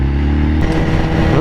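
A BMW S1000RR motorcycle engine revs loud and close, a steady drone that abruptly shifts pitch midway, with no talk.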